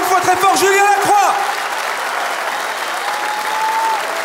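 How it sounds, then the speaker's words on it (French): A large crowd at a stand-up comedy gala applauds loudly and steadily, with a voice calling out over the clapping at the start. "On applaudit encore une fois très fort Julien Lacroix."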